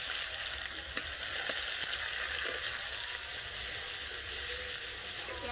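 Onion paste with ginger-garlic paste and a few cumin seeds sizzles steadily in a hot pan, a continuous close frying hiss with faint occasional stirring clicks and no talking.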